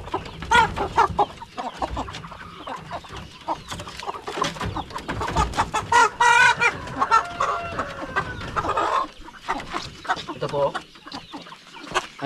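Purebred Jersey Giant chickens cluck and squawk busily at close range, a dense run of overlapping calls that swells and falls, with a person speaking among them.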